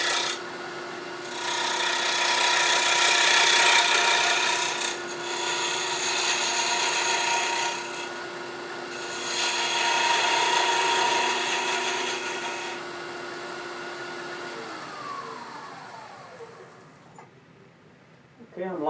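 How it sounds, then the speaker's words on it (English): A 3/8 inch spindle gouge cuts wood on a spinning lathe while a mini pedestal bird house is turned, making three long raspy scraping passes with short pauses, then winding down as the lathe slows. "I'm going to use my regular 3/8 inch spindle gouge."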